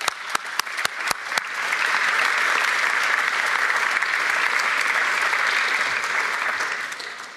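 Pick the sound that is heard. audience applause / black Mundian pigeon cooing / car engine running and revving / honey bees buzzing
audience applause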